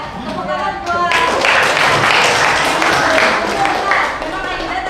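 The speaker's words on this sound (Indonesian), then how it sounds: "Tepuk tangan buat." Pupils in a classroom break into applause, a dense and fairly loud burst of clapping that swells after a short stretch of talk and then tapers off, with voices audible around it.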